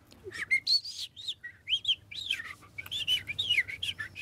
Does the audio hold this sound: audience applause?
no